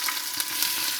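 Mustard seeds and fenugreek frying in hot ghee for a Muscovy duck curry, giving a steady close crackling sizzle with a few sharp pops throughout and no talking.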